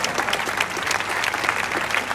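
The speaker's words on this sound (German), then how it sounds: "das sind die Athletinnen, die kriegen besonders großen Applaus" Spectators cheer and clap loudly for female Ironman triathletes at the Frankfurt 2018 race on the Römerberg, a dense, rhythmic wall of applause close by.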